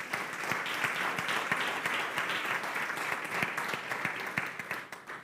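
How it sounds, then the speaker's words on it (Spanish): Sustained applause from an audience at a church gathering, a dense, even wash of many hands clapping with a few sharper claps standing out, continuing steadily throughout. "los recibimos con un fuerte aplauso"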